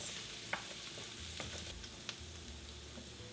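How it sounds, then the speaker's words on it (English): Onions cooking with thyme and butter in a pan for a Marsala sauce, a steady soft sizzle and frying hiss with a few small pops and stirring clicks, close and quiet. "I'm just going to cook these onions with that thyme to give that some good flavor for this sauce"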